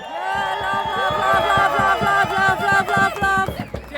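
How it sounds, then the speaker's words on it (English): A rally crowd in Canberra cheers and makes noise, a loud, sustained roar of voices with shouts and whoops rising and falling throughout, close and dense, with a voice carrying over the top. "make some noise for our First Nations people"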